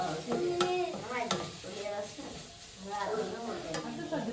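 Onions roasting in a pan for an onion roast, with rhythmic stirring scrapes and a moderate sizzle nearby, and a faint voice murmuring underneath.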